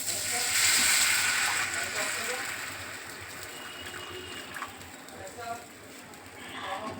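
Water poured into a hot pan of cashew powder for a cheese and potato pakora preparation, a loud burst of steamy hissing that swells at first and then settles into softer sizzling and bubbling.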